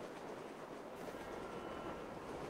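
A train rumbles past in Grand Theft Auto V, a steady, broad rolling roar of wheels and carriages at moderate distance, faint overall and without speech.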